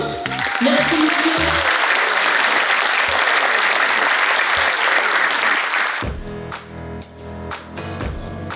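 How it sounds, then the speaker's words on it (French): Applause from an indoor audience after a signing at a company anniversary ceremony, dense steady clapping for about six seconds, then fading into scattered claps and murmuring. "Vous pouvez applaudir la signature."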